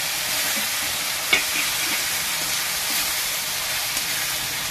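Onion, ginger and tomato pastes frying in a pan for a Bengali pangas fish curry, giving a steady, moderate hiss and sizzle with a few faint stirring clinks.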